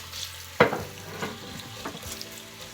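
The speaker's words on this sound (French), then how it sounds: "Je commence par mettre l'ail que j'ai découpé et les oignons pour commencer à les frire en premier." Chopped garlic and onions drop into a pan to fry for fried rice, making one sharp close splash followed by a soft, steady sizzle with a few faint stirring scrapes, no voices.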